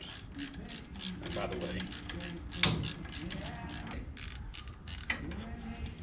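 A ratchet working a half-inch bolt on a Jeep Dana 25/27 axle knuckle, rapid repeated clicking strokes in bursts close by, with someone briefly talking over it.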